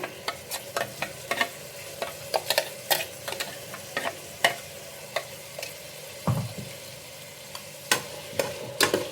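Ground masala paste frying in oil for soya chunks palav, a low simmering sizzle broken by frequent sharp ticks and spatters at an irregular rhythm, close and alone.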